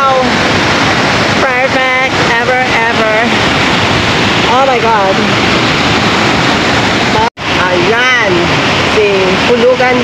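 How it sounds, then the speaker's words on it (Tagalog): Hulugan Falls, a waterfall in Luisiana, Laguna, roars as a steady, loud broadband rush of falling water, with excited voices talking and exclaiming over it throughout. "Hulugan Falls"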